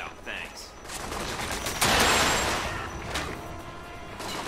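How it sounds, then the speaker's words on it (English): A missile fired in the Alpha Protocol video game, a sudden loud whooshing blast that trails off over a second, amid scattered smaller game sounds. "So that's one missile."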